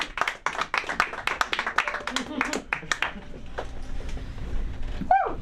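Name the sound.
audience clapping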